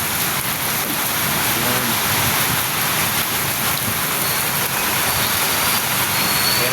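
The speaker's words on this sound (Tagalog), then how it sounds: "Ang lakas ng ulan eh." Heavy rain pours down on Loyola Street in a dense, steady hiss, loud and unbroken throughout, with a faint low rumble underneath.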